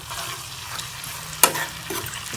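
Garlic sizzles steadily in hot ghee while making a tadka for dal, with one sharp metallic clink partway through.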